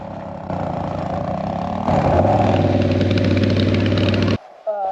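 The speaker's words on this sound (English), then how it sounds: "Riding dirt bikes in mud can be tricky. You have to have a lot of confidence going through some of these mud puddles." Dirt bike engines running on a muddy off-road trail in Alaska, a steady loud motor drone that steps up in pitch and intensity partway through, then cuts out abruptly near the end.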